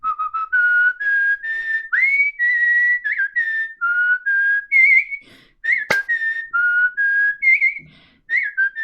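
A person whistles the Golden Sun video game theme tune, a clear melodic line of short, rising and falling notes with brief pauses, close and steady, with one sharp click partway through and no talk.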